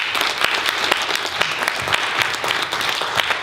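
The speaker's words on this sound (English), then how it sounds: "Big round of applause for Rob Callaway." Steady applause from a medical cannabis conference audience welcoming a speaker, dense clapping holding evenly throughout at moderate loudness with no talk over it.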